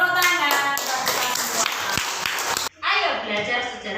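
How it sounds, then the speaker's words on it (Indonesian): Children clap together in an Islamic cultural history classroom, sharp rhythmic claps opening the moment before a brief cut, then a teacher's voice talking over lingering claps. "Pintar semuanya, tepuk tangan."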